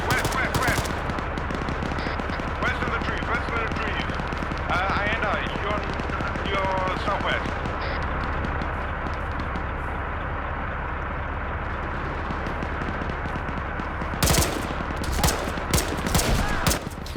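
Rapid bursts of automatic gunfire and scattered single shots from a shooter video game crackle close and loud, with a sharper volley near the end, while players talk over the action.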